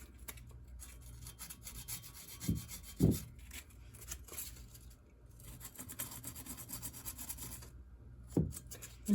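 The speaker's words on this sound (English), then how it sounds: "I'm going to go in there with my 400 grit sandpaper, and I'm just going to sand it so it's a little smoother" Sandpaper of 400 grit rubbing over a chipped vintage Art Deco ceramic piece, a soft, quiet rasping scrape that continues steadily, with a few sharper bumps and knocks along the way and no talking.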